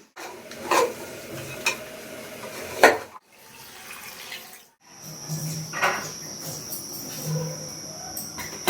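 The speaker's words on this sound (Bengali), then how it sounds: "মাংসটা রান্না প্রায় হয়ে এসেছে" Chicken curry cooks in a pan, with intermittent scraping stirs, clinks of a utensil and soft sizzling, close and moderately quiet, with a brief lull in the middle.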